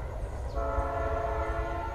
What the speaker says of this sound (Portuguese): tá buzinando outra PM lá, ó. E foi embora o trenzão.